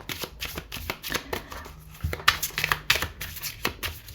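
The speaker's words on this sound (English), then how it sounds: "I'm not going to try and riffle shuffle it or anything, mainly because I can't, so I'm just gonna overhand." A slim deck of playing cards being shuffled overhand, with quick papery bursts of riffling and slapping in uneven clusters, close and clear, without any speech.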